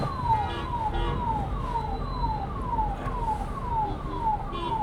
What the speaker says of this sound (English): Are we letting that ambulance go?